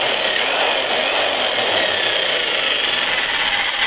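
An electric tree-cutting chainsaw with a 16-inch bar runs steadily, a loud continuous buzzing whine heard up close with no talk.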